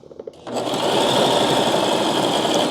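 A sewing machine stitches fabric: a few quick clicks, then a loud, steady, close-up mechanical whir that holds to the end.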